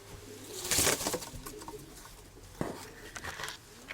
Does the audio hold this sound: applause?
no